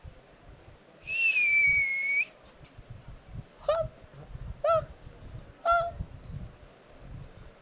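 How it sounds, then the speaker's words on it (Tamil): A long steady whistle with a slightly falling pitch, followed by three short rising whistle chirps spaced about a second apart, heard at a temple during a full-moon ritual over low background noise. "அந்தால விசில் சத்தம்"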